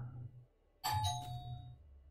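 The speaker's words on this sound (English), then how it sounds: "And my doorbell just rang." A doorbell rings with a single bright chime that rings out and fades over about a second, heard alone and indoors after a short pause.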